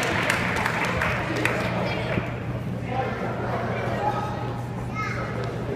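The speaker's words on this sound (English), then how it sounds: "Big round of applause." Guests at a sweet sixteen birthday party clap in a steady, moderate round of applause that holds throughout, mixed with crowd chatter and children's voices in the room.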